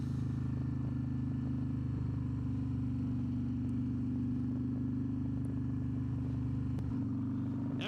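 A Harley-Davidson CVO Road Glide ST bagger motorcycle cruises with a steady, smooth, low engine drone held at an even pitch throughout, with faint wind and road noise on top.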